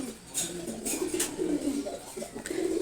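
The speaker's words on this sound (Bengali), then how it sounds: "এটা ফরেন ব্লাড লাইনের রেসার কবুতর" Soft, low cooing of a male racing pigeon of Belgian bloodline repeats in short rolling phrases, close and moderate in level, over a faint background with a few light rustles.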